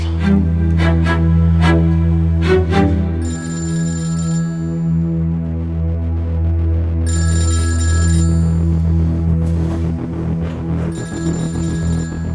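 Telephone bell ringing in repeated loud bursts with brief pauses between them, close by and alone over steady background music.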